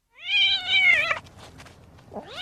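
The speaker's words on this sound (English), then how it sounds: "One of the cats sees him." A single cat gives one long, rising then falling meow up close, followed by quiet and a short second call starting at the end.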